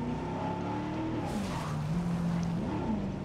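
A vehicle in Jurassic World Evolution slides through a handbrake skid, a steady engine drone under a rising and falling tire squeal that carries for a few seconds with no talk.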